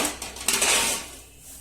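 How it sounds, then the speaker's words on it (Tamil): Roasted idli-powder ingredients for a drumstick-leaf mix tumble from a pan into a metal vessel, a short clattering rattle of dry pieces against metal that tapers off after about a second. "எடுத்து ஒரு ஏனத்துல கொட்டிக்கங்க"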